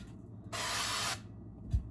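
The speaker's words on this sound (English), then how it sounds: "I'm going to spray it in my pan, just lightly." Extra virgin olive oil cooking spray is sprayed into a pan in one steady hiss of about half a second, followed by a brief soft knock.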